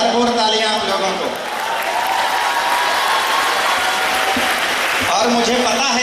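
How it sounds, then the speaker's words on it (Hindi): An audience claps steadily through a Hindi poetry recital, a dense wash of applause that swells and holds for several seconds, with a voice speaking at the start and near the end. "बजानी चाहिए अजातशत्रु जी के लिए भरपूर तालियां आप लोगों को"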